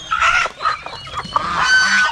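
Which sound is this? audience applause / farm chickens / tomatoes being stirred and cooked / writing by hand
farm chickens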